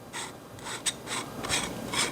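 A faulty screw thread on a camera filter bracket spins freely as it is turned, giving short, quiet, repeated scraping rasps in a few bursts.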